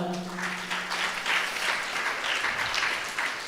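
An audience claps in a brief, steady burst of applause lasting a few seconds, with no voices over it.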